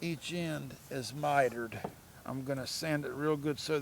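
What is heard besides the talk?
No everyday noise stands out behind the speech.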